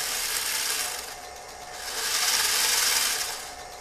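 A freshly repaired, greased gearbox runs with its gears turning, giving a continuous close mechanical whir and ratcheting hum that swells in the middle and eases off again.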